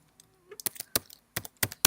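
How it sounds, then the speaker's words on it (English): Keys on a computer keyboard clack in an uneven sequence as a USSD code is entered, close and crisp, with short gaps between the taps. "So let's just type in some USSD code"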